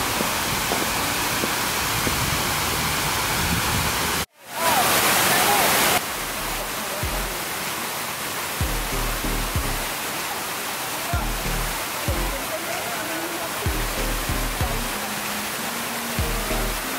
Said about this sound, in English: We're gonna go to the water wall and take some cool pics.